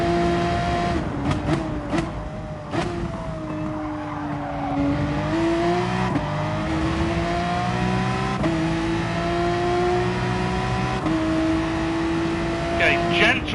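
A race car engine in Gran Turismo Sport at the Red Bull Ring pulls hard at full throttle with a loud, steady rising whine, broken by a few quick gear changes, under a voice.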